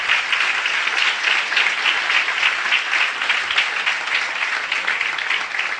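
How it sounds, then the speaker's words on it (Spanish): Steady, loud applause from a church congregation at a Holy Week conference, continuous dense clapping filling the space for several seconds without pause. "Dale un fuerte aplauso al Señor."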